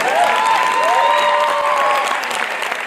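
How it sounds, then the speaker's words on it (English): Loud, sustained applause from an audience at a medical school induction ceremony, a dense even wash of clapping with a few faint whistle-like tones riding over it. "Please, another round of applause for the provost and beautiful lads."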